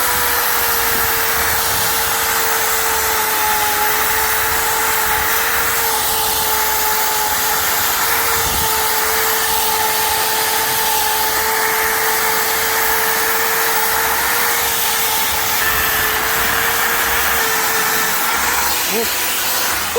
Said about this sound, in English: New what do you call it? Wire wheel. Let's blast this rust off.